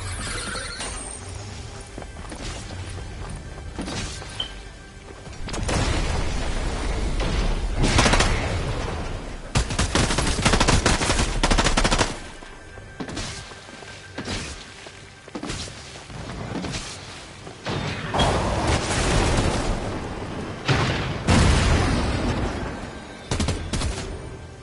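Shotgun blasts in Fortnite gameplay: several loud, sharp bursts of gunfire with rumbling tails, spaced irregularly among bouts of quieter game noise, some arriving in quick clusters.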